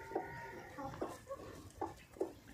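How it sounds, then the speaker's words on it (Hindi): Soft, faint clucks from a few laying hens and roosters in a village poultry farm come in short bursts over a quiet outdoor background. "9 मुर्गियाँ और 2 मुर्गे"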